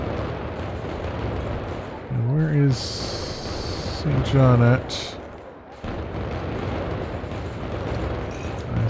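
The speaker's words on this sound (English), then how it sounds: "And get those freaking fireworks to stop." Fireworks going off in the video game Thief of Thieves: a steady rumbling crackle of bursts runs throughout at moderate loudness, under someone speaking and brief game chimes.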